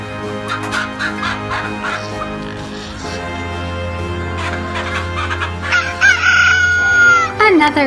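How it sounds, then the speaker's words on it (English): A rooster crows loudly and close by near the end, a rising and falling call that rings out over a steady low drone. "Another rooster."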